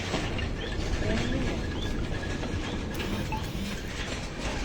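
A rope way train runs at Jogindarnagar, Himachal Pradesh, giving a steady rattling, clattering roll that continues throughout, with faint bird chirps in the background.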